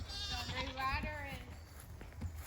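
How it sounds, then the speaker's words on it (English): Goats at feeding time on a homestead, one close, loud, wavering bleat drawn out for about a second, with people talking and other farm noise around it. "We're going to feed the goats."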